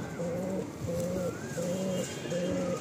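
Pigeons in a loft give soft, repeated cooing phrases, four evenly spaced low coos over a steady background hum, fairly faint and with no voices.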